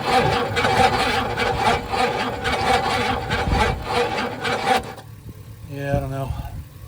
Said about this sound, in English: So as I crank this, I can hear a couple dead cylinders for sure.